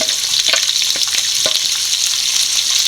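Sliced onions, shallots and green chillies hit a hot pan and fry, a loud, close, hissing sizzle with a few quick stirring scrapes throughout.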